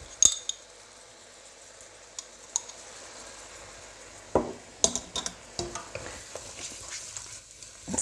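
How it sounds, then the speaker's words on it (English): Pieces of beef frying in a pan with garlic and ginger, a low sizzle under intermittent scrapes and clatters of a utensil stirring the meat, a few sharper knocks toward the end. "Fry that up so it coats all the meat."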